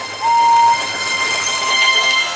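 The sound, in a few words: steam locomotive train puffing along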